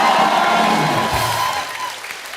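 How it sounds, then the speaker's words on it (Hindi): Loud applause and some cheering from a studio audience on a comedy talk show welcoming cricketer Kapil Dev, a thick roar of clapping that gradually fades away. "अब जोरदार तालियां होनी चाहिए।"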